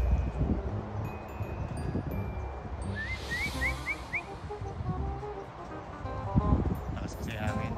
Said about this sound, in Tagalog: Lakas kasi hangin.